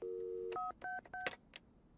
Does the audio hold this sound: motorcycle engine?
no